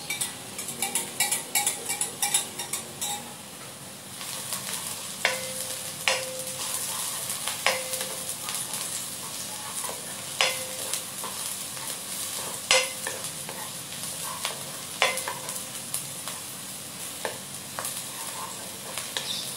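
Garlic sizzling in a frying pan for a gluten-free tuna pie, a steady close frying hiss with occasional stirring clinks and scrapes, no voices.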